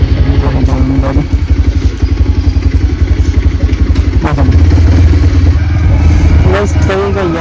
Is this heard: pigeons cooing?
no